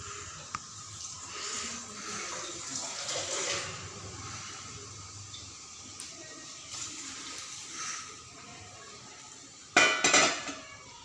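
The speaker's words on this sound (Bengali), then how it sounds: "আমি ডালের উপর জল অ্যাড করবো।" Water is poured onto dal cooking in a pot in a home kitchen. It arrives as a short, loud splashing burst near the end, after a stretch of faint kitchen clatter and quiet background noise.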